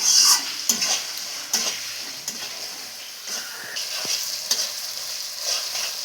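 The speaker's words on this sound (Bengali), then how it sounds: "ভালো করে কষে নিতে হবে যতক্ষণ না তেল ছাড়ে।" Spice paste with Kashmiri chili stir-fried in oil until the oil separates: a steady close sizzle with repeated scraping strokes of a spoon or spatula against the pan, irregular and fairly loud, no voices.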